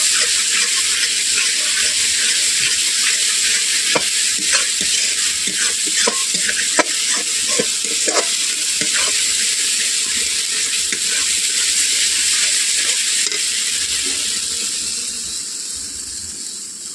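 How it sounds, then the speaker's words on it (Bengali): Masala gravy for rui fish kalia fries in a pan while being stirred, a constant loud sizzle broken by repeated sharp scraping strokes that thin out toward the end. "এই গ্রেভিটাকে আমি 3 থেকে 4 মিনিট ভালোভাবে নেড়ে নেব"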